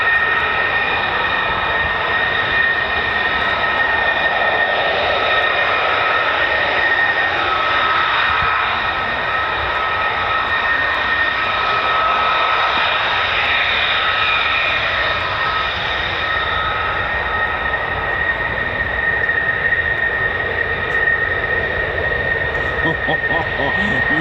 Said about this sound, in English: F-35A taxiing and F-16